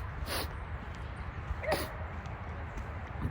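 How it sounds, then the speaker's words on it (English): Dogs bark in a few short, fairly distant bursts along a rural path, over steady low outdoor rumble. "barking dogs."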